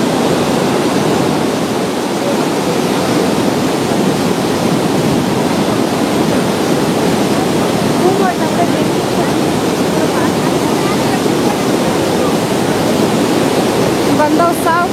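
Niagara Falls roaring as a loud, unbroken wash of falling water that fills the whole scene, steady and close, with no voices over it.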